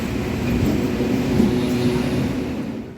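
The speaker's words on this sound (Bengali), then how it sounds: "এবারে আমাদের ট্রেন রওনা দিল" A Kolkata circular rail train pulls away from Princep Ghat station, a steady low rumble of wheels and motor with a faint rising tone, close and continuous with no voices over it.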